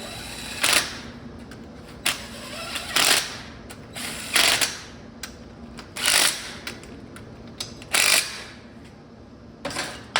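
Bolts are snugged down on a Dana 30 differential during a re-gear, with a hand ratchet clicking in five or six short, evenly spaced bursts, close and crisp against a quiet workshop background.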